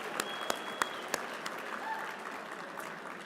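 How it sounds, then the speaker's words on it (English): Applause from an audience at an election night event, a broad steady wash of clapping with a few sharp louder claps near the start, tapering slightly toward the end. "Please give them a big round of applause."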